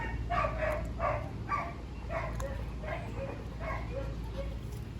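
Dogo Argentino puppies yipping and barking repeatedly in a steady series of short, high calls, fairly close, over a low background hum.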